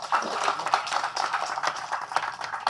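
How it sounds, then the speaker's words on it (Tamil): An audience claps for Ganesh master at a stage event, with dense, rapid hand claps running steadily from start to finish. "கணேஷ் மாஸ்டருக்கு வந்து தயவு செஞ்சு ஒரு கைத்தட்டல் கொடுங்க"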